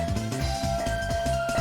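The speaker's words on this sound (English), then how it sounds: "Not the whistling, but the dinging on the train track." A loud electronic train crossing bell dings in a quick, steady repeating rhythm over a busy background in the Sega Saturn game Christmas Nights.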